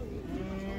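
A cow at a livestock market gives a single short, close moo with no talk over it.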